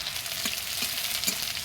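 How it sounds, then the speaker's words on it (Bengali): Onions frying in hot oil for a Bengali egg and potato curry, with a steady, close sizzling hiss and a few soft stirring bumps, no voices. "এখন এই তেলের উপরে পেঁয়াজ দিয়ে দিয়েছি, পেঁয়াজটা লাল লাল হয়ে যাবে।"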